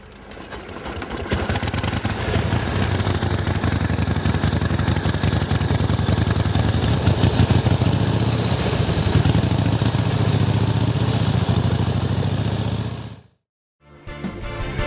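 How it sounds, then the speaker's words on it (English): A motorcycle engine at the Wheels Through Time Museum runs steadily and loud with a deep throbbing rumble, then cuts off abruptly near the end before sound briefly returns. "I think this bike would be capable of taking a little putt in the grass out there"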